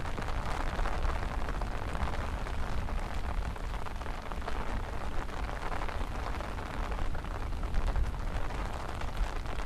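Rain falls steadily on a surface, a continuous dense patter that holds at an even level throughout, with no voices.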